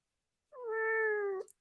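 A hungry cat gives a single long, drawn-out plaintive meow, close and clear, rising then holding steady for about a second before fading, heard alone with no talk.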